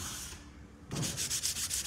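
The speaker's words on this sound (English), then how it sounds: "is just really lightly sand. Don't forget your edges." Wooden furniture being lightly sanded by hand before waxing, a soft quiet pause followed by quick rhythmic scratchy rubbing strokes, faint and close.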